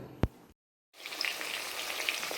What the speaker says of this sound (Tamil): சிக்கன் வந்து ஃப்ரை பண்ணுறோம் எப்படி ஃப்ரை ஆகுது பாருங்கள்